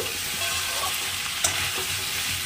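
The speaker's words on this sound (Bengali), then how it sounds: "খিচুড়ির জন্য কুমড়ো, আলু আর পেঁয়াজটা ভেজে নিচ্ছি।" Pumpkin, potato and onion frying in hot oil for khichuri give a steady, close sizzle with light stirring scrapes throughout, plus one brief louder clatter midway.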